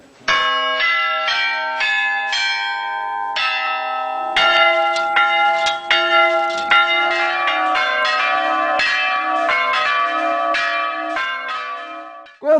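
Bronze bells struck one after another at a bell foundry in Minas Gerais, each strike ringing out loud and close with a bright metallic attack and a long sustained hum, about a dozen strikes over the span.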